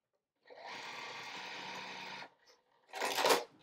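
A quilting sewing machine runs in one steady two-second burst, stitching a fabric triangle across a 4-patch seam, followed by a short rustling, clattering handling noise.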